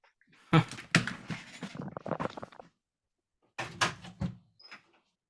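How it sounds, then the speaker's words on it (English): A door being opened indoors, a cluster of rattling handle and latch clicks with creaks and scraping, then a pause and a second burst of knocks and a faint squeak. "I just need to open the door."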